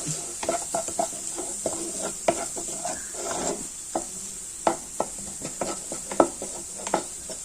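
Close-up stirring of a spiced chicken bread-roll filling with green chillies in a pan, with repeated scraping strokes over a light sizzle and a steady high background hiss.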